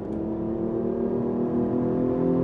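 Intake note of a 2015 Hyundai Genesis Coupe's 3.8-liter V6 with an intake noise generator, a steady low droning hum that holds evenly throughout without voices.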